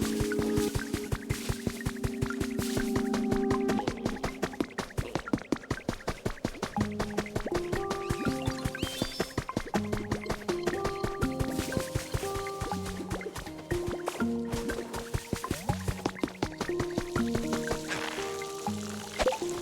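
Video game watering sounds from Pokémon Pokopia: rapid, steady dripping and splashing water effects over a bright, melodic game soundtrack, continuous and moderately loud throughout with no talking.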